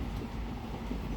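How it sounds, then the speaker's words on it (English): The Matsyagandha Express rolling across the Sharavati river bridge at Honavar during monsoon rain, a steady low rumble of rail cars heard from inside the train, with no talk. "woke up as the train was crossing the Sharavati bridge at Honavar"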